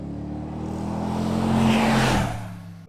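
A 2019 Mercedes-AMG G63 with its V8 engine passes by, a deep rumbling drone that swells to a loud peak midway, then fades, heard alone and close.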